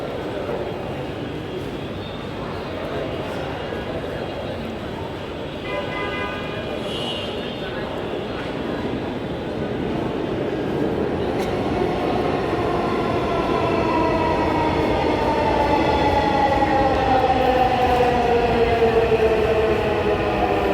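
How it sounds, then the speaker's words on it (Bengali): A metro train pulls into Agargaon station, its rising electric whine and rolling rumble building steadily over station ambience, with people talking nearby. "আপনারা দেখতে পাচ্ছেন ট্রেন আসতেছে"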